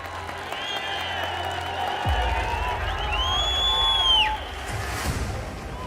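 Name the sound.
audience applause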